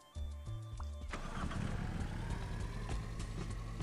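Car engine starting in the video game Sneaky Sasquatch: a cranking stutter that catches and settles into a steady, moderately loud idle.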